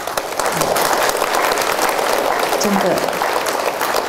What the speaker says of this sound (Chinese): 这个掌声要送给所有的义工